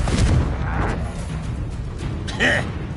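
A Confringo blasting spell goes off during a Hogwarts Legacy duel, booming, crackling bursts over a low rumble, with a character's voice cutting in near the end.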